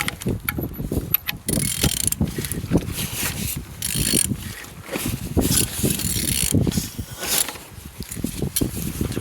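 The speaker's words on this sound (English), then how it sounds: "Turning your engine, 1ND-TV." A Toyota 1ND-TV diesel engine is turned over by hand, giving repeated mechanical clicks, ratcheting and rattling in uneven bursts, close and moderately loud, with no voices.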